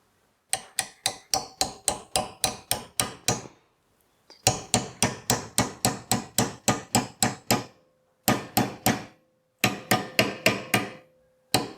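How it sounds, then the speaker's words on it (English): Sharp, bright hammer taps on a metal Firebox camping stove part in quick rhythmic bursts, close by, with brief pauses between runs of ten or so strikes. "gently tap it with the hammer right on top"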